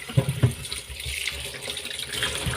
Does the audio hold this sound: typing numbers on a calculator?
no